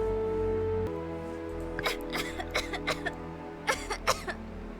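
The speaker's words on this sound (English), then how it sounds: "She started coughing right away, even as she sat up, clutching the blankets close to herself." A woman coughs in a quick series of short, dry bursts, several in a row, over a steady low background hum with no talking.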